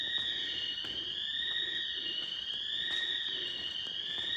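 Store alarm blaring inside an abandoned Toys R Us / Babies R Us building, a loud continuous electronic tone with a steady pulsing warble, heard close and unbroken throughout.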